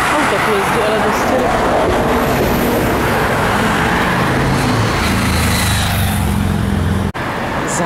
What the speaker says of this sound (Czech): Auto tu jezdí, ale dost